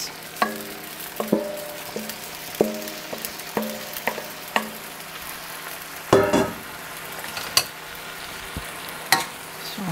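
Noodles for chicken and shrimp pad thai are stirred and fried in a pan with sauce, a steady sizzle broken by repeated sharp scrapes and clanks of the utensil, close and with no talking.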